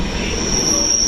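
A train at the Essen main station platform rolls past with steady loud rumble and a sustained high wheel squeal, close by.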